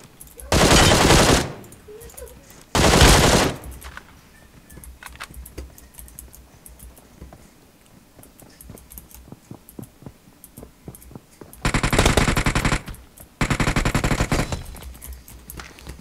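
Machine gun fire in the mobile game PUBG Mobile with an MG3, loud sustained bursts at the start and end with quieter game noise and faint player chatter in between.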